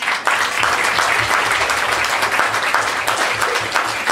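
Audience at a tenth-anniversary stage show applauding the performers, a steady, full burst of clapping from a large crowd that continues evenly throughout.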